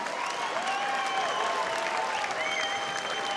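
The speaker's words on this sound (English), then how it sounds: "Another round of applause for these two fighters." Sustained applause and cheering from a fight-night crowd after a four-round 86 kg bout, steady and loud throughout without pause.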